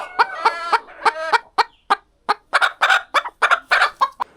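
A loud, close native desi chicken with a crested comb gives a rapid run of harsh, choppy calls, bursts of throaty clucking and gobbling in quick succession, with no talking.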